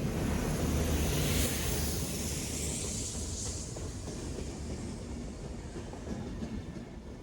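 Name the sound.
MBTA commuter rail wash train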